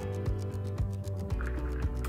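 Water pours into a cup holding ice, a close, quiet trickle and fill with small clinks and drips repeating through the short moment.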